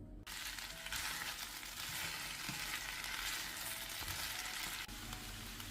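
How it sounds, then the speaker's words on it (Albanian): Thinly sliced potatoes with spinach sizzling in a pan, a steady loud hiss of frying with faint scraping of stirring throughout and no talk. "I fërgojmë edhe për 2-3 minuta tjera që dhe patatet pak të skuqen"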